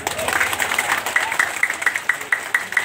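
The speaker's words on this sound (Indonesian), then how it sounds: "Bapak Ibu dapat tepuk tangan dulu dong." An audience at an outdoor campaign gathering in heavy rain claps in a short burst of applause, a steady patter of many hands at moderate distance, with a voice speaking over it at the start.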